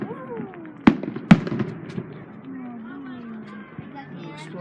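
Fourth of July fireworks at a family gathering: two sharp, loud bangs burst out early, followed by fainter distant pops, while people chatter and call out throughout.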